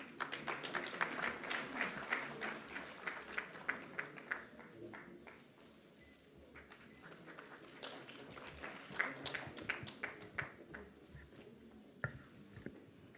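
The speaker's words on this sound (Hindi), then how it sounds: "जोरदार तालियों के साथ" Applause from a large audience at a political gathering welcoming a Union Minister, scattered and fairly faint hand claps that thin out midway and then pick up again with some crowd noise.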